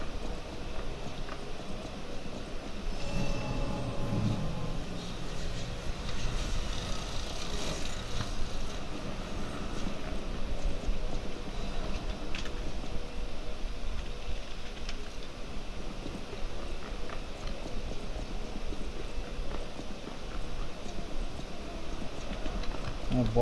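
Horse hooves clip-clop through the Lies of P video game soundtrack, a steady trotting rhythm blended into dense game ambience and music at moderate loudness, with occasional voices.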